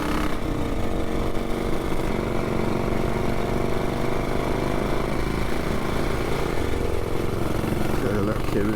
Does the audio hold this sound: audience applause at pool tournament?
no